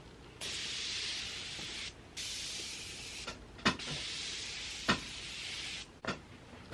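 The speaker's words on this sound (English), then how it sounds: "I'm going to set my face with a Morphe Peach setting spray." Several short bursts of hissing Morphe Peach makeup setting spray on a face, each lasting about a second or two, separated by small clicks and pauses, close and fairly quiet.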